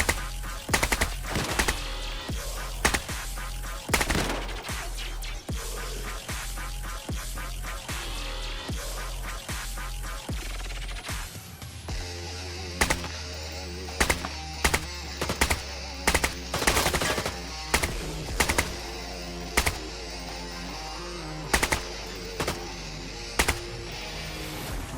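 An AK-74N rifle in Arena Breakout fires rapid, sustained automatic bursts, loud and close, first in a fast continuous string, then in shorter spaced bursts with echoing tails.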